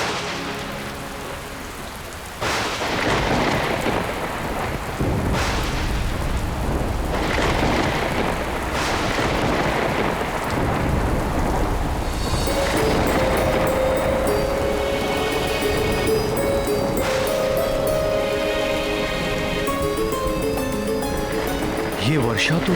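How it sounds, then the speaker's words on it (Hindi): Heavy, steady rain falling throughout, with low thunder rumbles and sharp thunder cracks near the start, under a constant wash of downpour; voices and tonal background music rise partway through. "ये वर्षा तो रुकने का नाम ही नहीं ले रही।"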